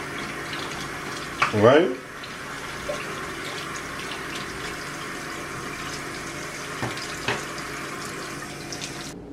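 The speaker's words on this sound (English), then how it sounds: "We're going to drain the hot water and we're going to sit them in a bowl of cool water" Hot water drains from boiled potatoes for potato salad, a brief splashy pour near the start, then a steady tap runs into a bowl. A voice speaks briefly.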